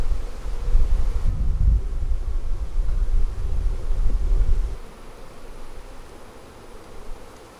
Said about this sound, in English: Awful lot of bees on there.